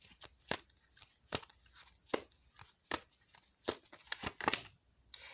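A deck of tarot cards is shuffled by hand: a run of crisp, close riffles and snaps in an uneven rhythm, quiet overall with no talking.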